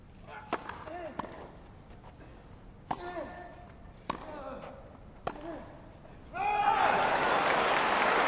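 Tennis ball strikes echo sharply across a Wimbledon semi-final rally, several clean pops in turn, and then the crowd breaks into loud, sustained applause.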